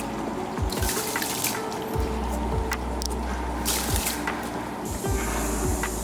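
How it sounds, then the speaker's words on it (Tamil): Drained rice tipped into a pressure cooker of mutton biryani masala, giving a run of wet pouring and rustling splashes with a few sharper drips and clatters, close and steady throughout, no talk. "இப்போ என்ன பண்ணலாம், நம்ம அரிசியெல்லாம் எடுத்து இதில் போட்டுடலாம்."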